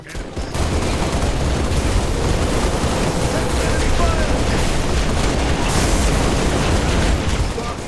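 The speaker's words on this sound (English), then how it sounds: "This gunfire is intense." Intense gunfire in the video game Halo Reach, a dense, continuous barrage of shots and booming explosions, loud and unbroken throughout.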